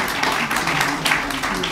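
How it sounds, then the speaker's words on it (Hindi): An audience applauds at an award ceremony for students, a dense, steady wash of clapping held close and continuous throughout. "तालियां बजाते रहें आप लोग,"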